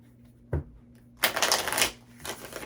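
Tarot cards being shuffled close up: a short riffle, then a longer rapid flutter of cards, followed by another brief burst of shuffling, no talking.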